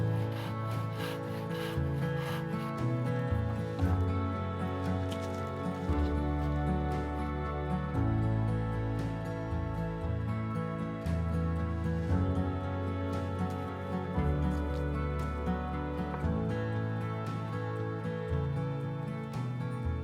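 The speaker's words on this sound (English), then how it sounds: "I gave up and used my handsaw." A handsaw cuts through wood in a steady back-and-forth rhythm, each rasping stroke close and distinct, continuing for about twenty seconds.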